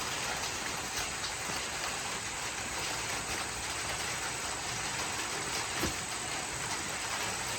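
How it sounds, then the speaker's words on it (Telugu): Heavy rain pours steadily at night during a power cut, a dense, even hiss of drops on surfaces that holds constant throughout with no voices. "వర్షం పెద్ద పడుతుంది ఇక."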